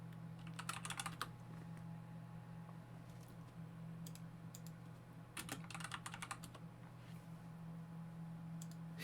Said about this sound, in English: You get to hear my clickety-clackety keyboard.